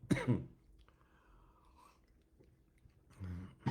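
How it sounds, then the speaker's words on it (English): A lingering cough bursts out close up, a short rough cough at the start and another near the end, with quiet shuffling and faint sounds between. "Still have this cough"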